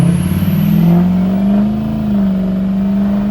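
A 6.0 Powerstroke diesel truck pulls away at half throttle, its engine drone steady and fairly loud with a low rising hum that holds through the pull.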